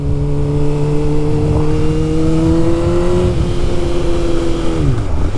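A Honda CB600F Hornet with an aftermarket Black Widow exhaust revs loudly with a throaty exhaust, holding a steady drone before dropping in pitch near the end, close and constant throughout.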